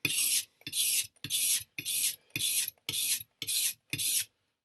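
A chef knife is drawn across a 1200 grit whetstone in eight even, rhythmic rasping strokes, each about half a second long and separated by brief silent gaps, heard up close with no other sound.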